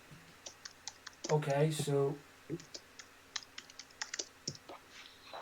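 Computer keyboard typing during a podcast recording, with a brisk run of light, close key clicks that continue after a person speaks briefly.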